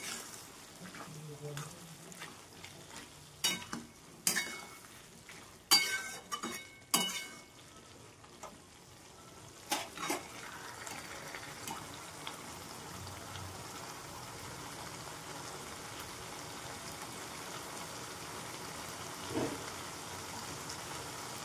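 Aloo matar, a potato and pea curry, cooking in a pan: a few sharp clatters and stirring knocks early on, then a soft, steady sizzle that carries on underneath.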